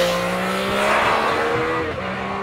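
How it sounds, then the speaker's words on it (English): A loud, steady engine note with sustained harmonic tones from a 2014 Yamaha FZ-09 motorcycle exhaust droning close by, holding level throughout with no talking. "you top all that off with what is undeniably an awesome exhaust sound"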